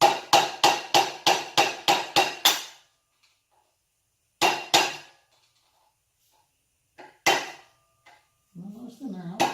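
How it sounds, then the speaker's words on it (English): Sharp metal hammer strikes on a rear gear part being installed in a Foxbody Mustang. A rapid run of about nine even blows is followed by a pause, two more hits, then scattered single taps and a brief voice. "I'll hammer it"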